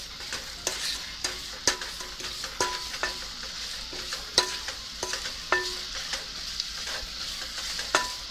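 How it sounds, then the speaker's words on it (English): A spoon stirs sugar into sweet potatoes cooking in a pan, a steady sizzle under regular scraping and tapping strokes about twice a second, close and clear with no talk. "Now add sugar. And mix it properly."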